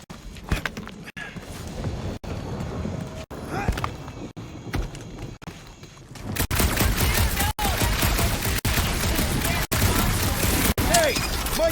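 Gunfire in Guardians of the Galaxy, rapid bursts of shots growing louder and denser after six seconds, with sharp periodic cracks over a busy combat background and voices talking.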